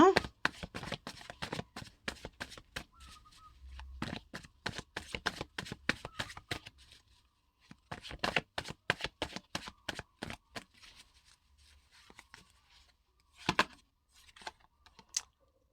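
Tarot cards being shuffled close up in repeated bursts of quick riffling flutters separated by short pauses, with a voice speaking softly underneath at times.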